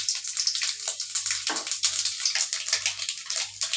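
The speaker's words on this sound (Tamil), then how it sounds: "கடுகு, உளுத்தம்பருப்பு, கடலைப்பருப்பு எல்லாம் போட்டுக்கலாம்." Mustard seeds, urad dal and chana dal sizzle and crackle in hot oil in a home kitchen, a steady close hiss with scattered pops throughout.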